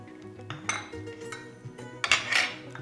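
Peanuts tumble into a pan for a dry chutney, giving a couple of close clattering bursts of nuts and metallic clinks against a quiet background.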